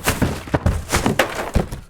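Wooden structures being built in a video game: a quick series of hollow wooden thunks and knocks, about six close, punchy hits in under two seconds.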